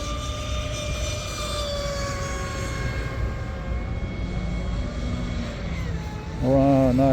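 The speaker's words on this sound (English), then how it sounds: "So there's another boat from René." An RC boat motor runs steadily on the water, a sustained whining drone with shifting harmonic tones, nearby and fairly loud, rising in pitch near the end as it speeds up.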